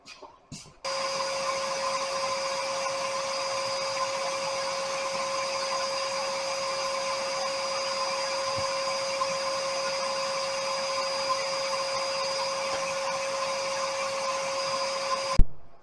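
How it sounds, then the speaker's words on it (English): A shop vac works as the vacuum pump for a DIY CNC vacuum table sealed with paraffin wax, giving a loud, steady whining drone with a strong tonal hum that runs unbroken from start to finish, with no talk over it. "Main one being that is a shop vac as my vacuum pump"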